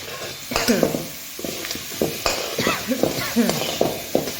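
Green chili paste stirred and roasted in a pan, with repeated scraping strokes of a spoon under a steady sizzle, close and fairly loud, and a few faint clinks.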